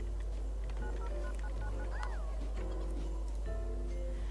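Telephone keypad dialing tones in The Sims 2 video game, a few short faint beeps and a rising chirp over steady low hum and quiet game background sounds, no clear talk.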